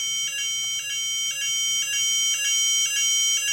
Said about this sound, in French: L'alarme qui se déclenche.